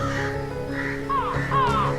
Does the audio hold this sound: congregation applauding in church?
no